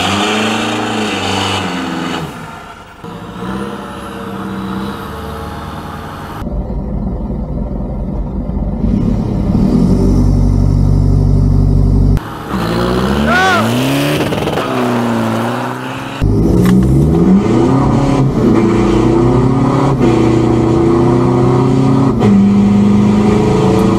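Diesel Mitsubishi Strada pickup trucks racing side by side, engines loudly revving and accelerating up through the gears, with rising whines and brief gear-change dips, close and continuous.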